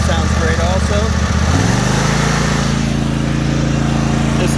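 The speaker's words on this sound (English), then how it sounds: "Idle sounds great also." A Simplicity ZT1500 zero-turn riding mower, 46-inch deck, drops from a faster engine note to a lower steady idle after the first second and a half, loud and close throughout.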